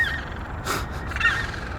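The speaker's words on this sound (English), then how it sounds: "Birds are all talking this morning, aren't they?" Birds calling in the morning by a shoreline, with a couple of short, harsh crow-like caws, one early and one near the end, over quiet ambient background.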